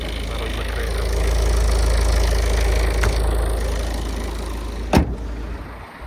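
A Citroën C4 Picasso 2.0 HDi diesel engine idles at a low, steady rumble nearby, swelling slightly then easing off, with a sharp click near the end.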